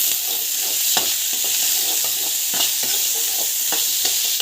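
Onions and dal sizzle steadily in a hot pan while a spoon stirs them with soft intermittent scrapes and clicks; a continuous close frying hiss with no talking.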